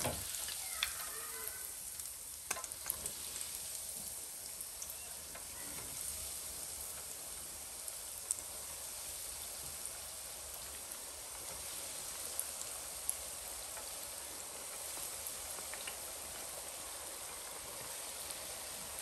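Steady bubbling sizzle of croquettes (bitterballen) deep frying in hot oil, soft and continuous with faint crackles, no voices.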